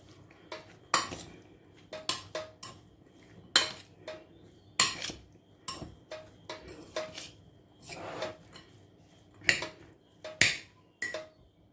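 A spoon clinks and scrapes against a bowl while mhajeb filling is stirred, sharp irregular metallic taps repeating over a quiet kitchen background, no voices.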